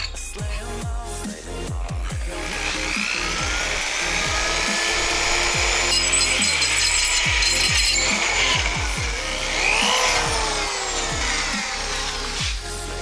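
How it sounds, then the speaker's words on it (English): A power drill bores holes through saw blades, its motor whining and rising in pitch while the bit chatters against the metal in rapid clicks, with no voices. "Now just go ahead and drill out the saw blades."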